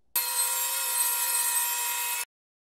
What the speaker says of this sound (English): I'm going to rip it down the center and then resaw these pieces